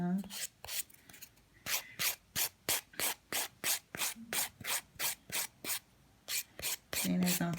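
Rhythmic rasping strokes of a nail file working across the top and edge of a fingernail, about twenty short even passes close up, with brief pauses and a faint voice at the start and end.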